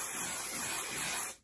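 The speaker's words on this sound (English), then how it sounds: "So I'm going to take my hairspray" Hairspray can spraying in one close, steady hiss lasting just over a second before cutting off sharply.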